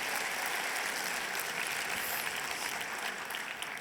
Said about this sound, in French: Je pense qu'on peut de nouveau les applaudir, ces 3 groupes qui se sont présentés à vous.